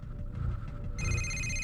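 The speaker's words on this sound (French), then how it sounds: "le téléphone a sonné" A telephone bell starts ringing partway through, a bright, steady electronic trill over a low, rumbling television-like background in a garage.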